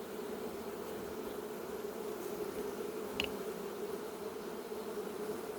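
Bees drone steadily around a beekeeper opening a new hive on a farm, a continuous close, even buzz with one brief sharper sound midway and no talking.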